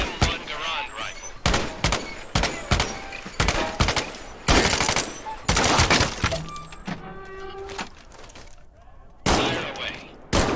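M1 Garand rifle shots in the Medal of Honor VR game ring out as a rapid series of loud, sharp cracks with short gaps, mixed with impact and breaking sounds, plus a brief ringing ping.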